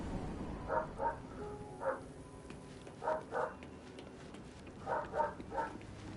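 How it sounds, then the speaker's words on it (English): Dog barking in the Baldur's Gate 3 video game: several short paired barks in scattered bursts, moderately close, over a low game ambience with no talk. "What is Atreus barking at"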